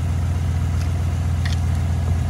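A car engine idles steadily after a jump start, a continuous low hum with no talk over it.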